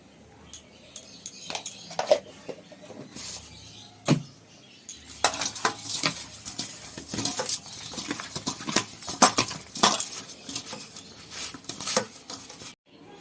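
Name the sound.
mixing fish pieces with salt and turmeric in a dish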